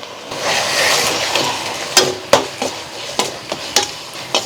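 Khoya and bottle gourd being stirred in homemade khoya ghee in a pan over high heat, a soft sizzle under a run of sharp spatula scrapes and taps against the pan, close and moderately loud.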